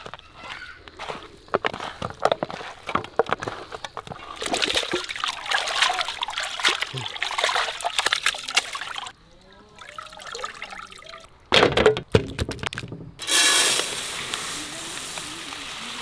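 Raw chicken being washed with turmeric water in the kitchen: intermittent trickling, splashing and dribbling water, close by, with bursts of louder splashing and pauses in between.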